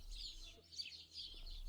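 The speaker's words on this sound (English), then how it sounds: "Do you hear the birds?" Birds sing beside a vineyard in quiet, high twittering phrases that carry on through the clip, faint and somewhat distant, over a low steady background rumble.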